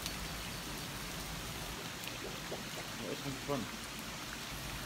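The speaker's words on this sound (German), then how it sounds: "Geiles, geiles Regenwetter. Das plätschert hier nur überall raus." Heavy rain splashing and pattering steadily everywhere outdoors near an inflatable boat, a dense continuous hiss with scattered drips, while someone speaks briefly in German over it.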